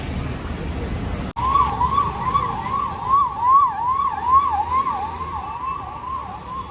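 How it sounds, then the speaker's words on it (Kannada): An ambulance siren on the road wails in a rapid, rising and falling yelp that carries steadily over the rumble of traffic. It sounds moderately close. "ಆಂಬ್ಯುಲೆನ್ಸ್ಗೆ ಒಂದು ದಾರಿ ಬಿಡಿ"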